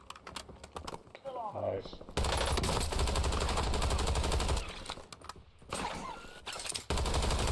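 Gunfire in the shooter game Warzone, fast rattling automatic bursts that cut in and out, loud and close, between stretches of someone talking.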